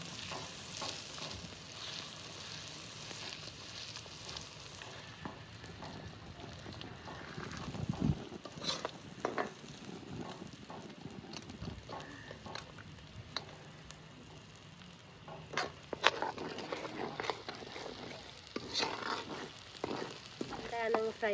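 Ginger frying in a pan for chicken pickle, with a steady sizzle and scraping stirring strokes that sharpen near the middle and again toward the end, mostly alone with brief faint voice.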